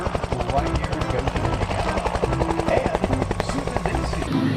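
A toy helicopter with rapid, rhythmic rotor chopping and a buzzing tone plays continuously and fairly loud, with a voice speaking alongside it.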